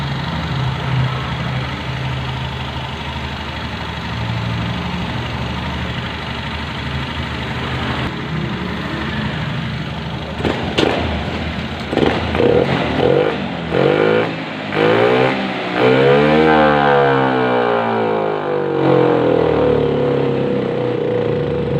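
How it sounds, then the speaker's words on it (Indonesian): A motorcycle engine idles steadily, then revs up sharply to full throttle in several bursts that swell and sag before the engine falters and dies, close and loud with no talking. "Ini motor mati lagi pada saat kita gas full."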